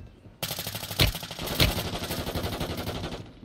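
A RAM 7 assault rifle fires a fast, sustained automatic burst in Warzone Mobile. Two sharper, heavier reports punch through the close, loud rattling stream before it cuts off abruptly.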